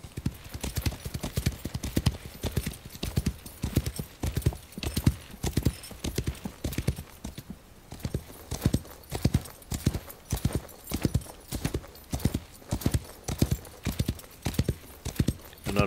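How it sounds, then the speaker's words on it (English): Video game ambience: hooves clip-clop in a quick, steady rhythm as horses trot along, the hoofbeats sharp and continuous with a faint whinny in the mix. "Notice they have ambient sounds, you know, like horses running"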